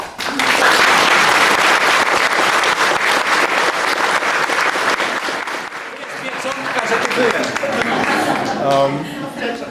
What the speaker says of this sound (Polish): Należą się Wam naprawdę wielkie brawa